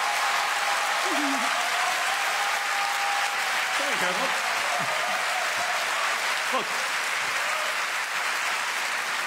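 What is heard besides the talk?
audience applauding the technicians and volunteers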